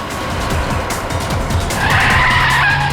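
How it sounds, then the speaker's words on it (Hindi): A car's tires skid and squeal loudly up close, a harsh continuous screech over engine rumble that rises in pitch toward the end. "सर काविन सर की गाड़ी।"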